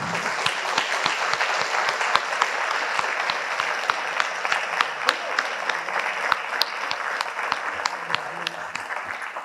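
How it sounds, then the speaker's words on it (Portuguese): A church congregation applauds during a Portuguese-language worship service, with dense, steady clapping that holds at an even level for about nine seconds, with no pause and no clear voices over it. "Você aplaude o Senhor?"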